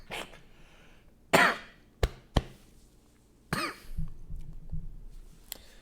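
Several sharp coughs scattered across a few seconds, a couple of single hacks and a longer rough cough, with quiet pauses between them.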